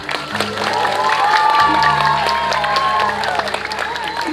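Applause from the audience at a Balinese drama gong performance, steady dense clapping with crowd noise, gamelan-like sustained tones and a voice running over it throughout.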